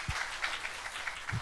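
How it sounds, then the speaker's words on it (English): An audience at a wellness congress in Palakkad claps, a fairly faint, steady patter of many hands with a couple of low thumps, heard from a distance in a hall. "Let's applaud her."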